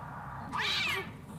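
A cat in a video game gives a single short, bright meow over a low background hum, brief and fairly loud, with no talk.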